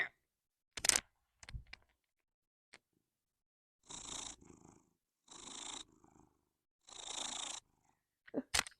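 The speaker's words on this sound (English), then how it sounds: "Maybe you can hear him purring." Pet cat purring close to the microphone, a few soft rumbling purr bursts with pauses between them, mixed with faint clicks and handling noise.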